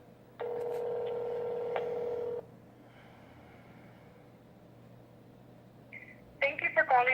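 A telephone call is placed with a long tone followed by a short keypad beep, then a faint ringing pattern over low hum, before a voice starts talking at the end.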